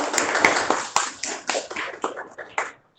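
Students in a classroom clap for a classmate who gave a good answer, a loose, uneven patter of separate hand claps spread over about three seconds that thins out and stops.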